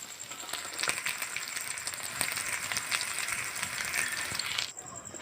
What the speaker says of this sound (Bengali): এবার আলুগুলো ভেজে নেব নুন, লঙ্কার গুঁড়ো আর একটু হলুদের গুঁড়ো দিয়ে